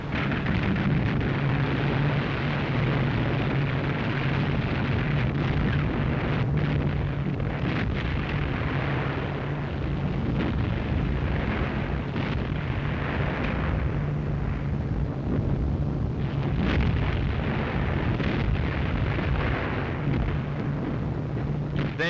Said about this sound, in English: Through the billowing smoke, the Tirpitz opened up with every gun she had.